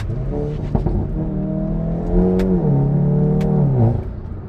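A Stage 2+ Hyundai i30N with a Milltek full exhaust accelerates, its deep exhaust note rising smoothly, briefly dipping at a gear change and then climbing again, loud and close with no voices.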